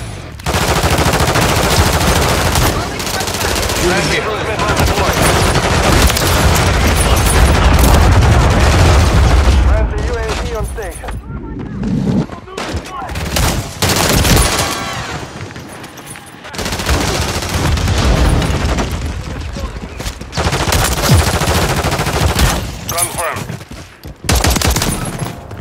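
Dense automatic and single-shot gunfire rattles almost nonstop in a Call of Duty: Modern Warfare 3 Kill Confirmed match, loud and close with heavy booms and brief gaps, while game voices call out in between.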